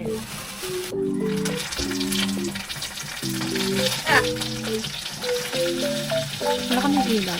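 Dried salted fish frying in hot oil for breakfast in a home kitchen, a loud close steady sizzle with crackles and occasional stirring scrapes, over a faint background of music.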